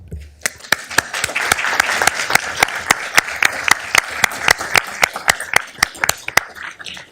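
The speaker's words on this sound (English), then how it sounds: "please give them a round of applause" A small crowd claps for police officers at a city council meeting, with sharp individual handclaps ringing out over a softer bed of applause for about seven seconds.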